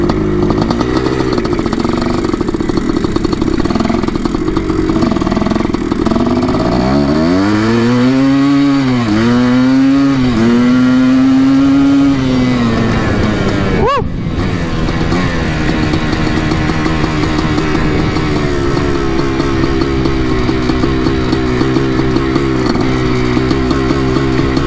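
A Yamaha YZ490 dirt bike engine runs loud and close, first revving up and down in rising, falling sweeps, then a sharp blip before settling back into a steady raspy idle.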